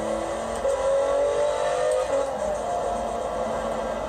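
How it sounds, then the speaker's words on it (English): A car engine in the video game Forza Horizon 4 revs with a steady rising whine, its pitch climbing and holding, loud and continuous with no voices. "it immediately increases the speed in the engine too. The engine gets louder."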